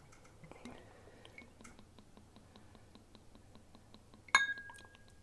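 Clan Macgregor whisky is poured into a small tasting glass: a soft trickle and scattered drips, then a sharp glassy clink near the end, all quiet and close.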